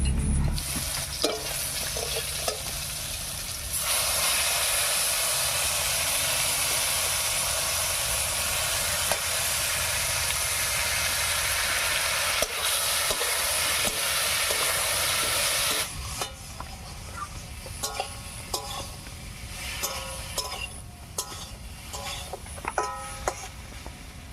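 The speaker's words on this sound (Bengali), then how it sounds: "পেঁয়াজ বাটা আর লঙ্কা বাটা দিয়ে বেশ কিছুক্ষণ নাড়িয়ে নিয়েছি" Chili and onion paste frying with taro and potato in a hot pan, a loud continuous sizzle under steady stirring that drops away partway through, leaving scraping of the spoon and softer frying crackles.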